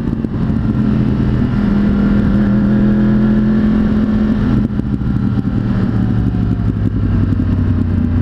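Motorcycle riding in city traffic, a steady loud engine drone with a held low hum that shifts midway, wind and road noise constant and no voices.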